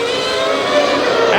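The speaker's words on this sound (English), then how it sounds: "And you hear the engine revs rise as Senna, followed by Schumacher." Formula One race car engine at the 1994 Imola Grand Prix, a sustained high-pitched scream whose revs climb steadily, loud and continuous throughout.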